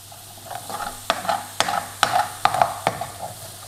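Tomato is stirred into a sizzling restaurant-style chicken Madras curry: about eight brisk, rhythmic spoon strokes scrape the pan over a constant close-up sizzle.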